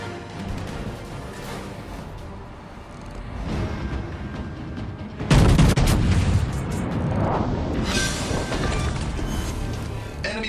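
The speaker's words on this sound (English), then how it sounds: "Enemy cruiser destroyed." Naval gunfire and a heavy blast as an enemy cruiser is destroyed in World of Warships Legends, with rumbling shots building to a loud crashing explosion midway and a roaring battle din that trails off.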